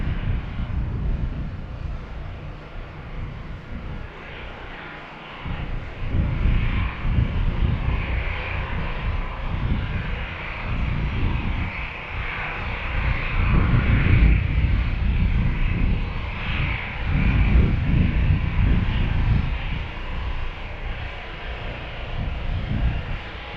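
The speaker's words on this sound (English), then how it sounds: "So we'll watch Delta taxi to the gate." Delta Airbus A320 from Atlanta taxiing to the gate, a steady jet engine whine and rumble that swells and fades slightly, heard from a distance with some wind noise.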